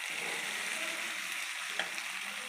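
Shrimp and pointed gourd sizzle steadily in a hot pan as they are stirred together, a constant close frying hiss with occasional scrape of the utensil and no voices.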